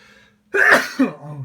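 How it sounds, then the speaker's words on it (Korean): A single harsh cough, close and fairly loud, following a short quiet pause, with a brief voiced sound at its tail. "오늘 기침이 왜 이리 자꾸 나오지?"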